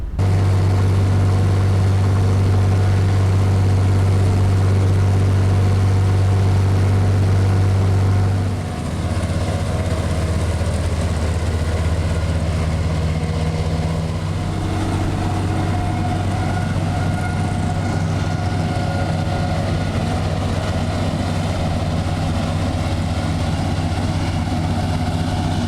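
A tractor towing a disc mower to a hay field holds a loud, steady engine drone, with its low hum dropping slightly in pitch partway through and continuing evenly without any talk.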